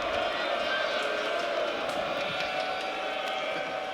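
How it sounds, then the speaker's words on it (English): A college basketball arena crowd roars and jeers in protest after a no-foul call at a championship game, a steady wash of many voices filling the space. "The crowd disagrees."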